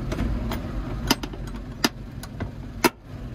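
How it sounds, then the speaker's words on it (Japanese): A Suzuki Scrum kei truck's small engine idles steadily with a low, even rumble, broken by a few sharp metallic clicks close by. "滑らかなエンジン音で、すごく綺麗なエンジン音になってます"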